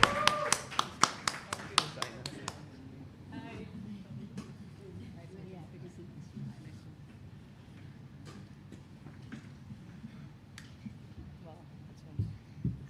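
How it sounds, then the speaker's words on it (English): Audience applause in a chess tournament fan zone at the FIDE World Cup finals, heard as a burst of sharp, close claps in the first few seconds that fade into murmuring crowd chatter, with a few more claps near the end. "Let's have a big round of applause."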